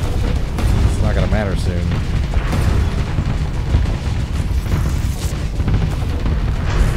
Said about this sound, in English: Some very cool sounding guns.